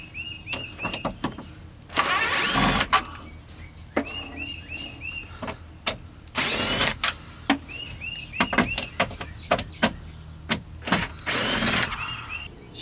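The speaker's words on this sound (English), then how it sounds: "But I'm going to use a Phillips head on a screw gun" A screw gun with a Phillips bit backs screws out of a Jeep Cherokee XJ gauge cluster, giving several loud whirring bursts between clicks and rattling handling sounds, close up and with no talk.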